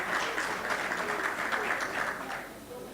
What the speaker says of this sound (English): A round of applause for Egyptians and a good leadership.